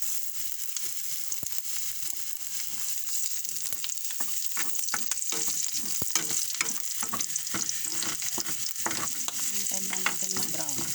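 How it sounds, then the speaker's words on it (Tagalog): Beans and vegetables sizzle steadily in a hot pan with garlic while a utensil stirs and scrapes repeatedly, the frying close and continuous throughout. "Ito yung beans, Gisahin natin yan. Lagyan natin ng gulay."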